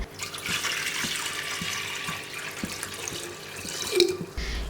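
Water runs steadily from a tap into a pot for sweet pongal, a continuous splashing stream with light clinks, no talking.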